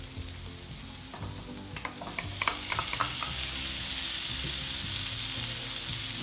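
Dried beef sauce sautéing in a pan, heard as a continuous close sizzle with a run of busy scraping and clattering stirs in the middle, and no voices.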